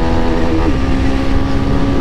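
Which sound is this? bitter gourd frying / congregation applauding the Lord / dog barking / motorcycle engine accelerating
motorcycle engine accelerating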